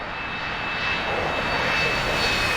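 An A-4E jet in a flight simulator game roars steadily during takeoff, a loud, unbroken engine drone with a thin high whine running underneath, and no voices.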